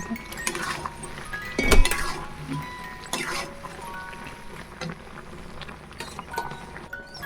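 Sugar syrup thickening in a pan while making ash gourd (chal kumro) morabba, stirred steadily with a spoon: light clinks and scrapes against the metal, one louder knock near the start, over a soft bubbling hiss.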